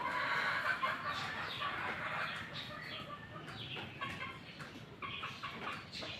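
Young chicks with bad legs cluck and cheep in a busy backyard, with soft chirps and scratchy clucks coming in short bursts, close by and fairly quiet.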